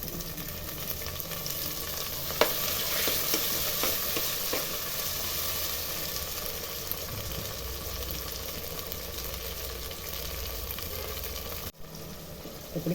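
Chopped tomatoes fry in hot oil with green chillies in a pan for prawn gravy, a continuous sizzle broken by occasional scrapes of the stirring spoon, with no talking.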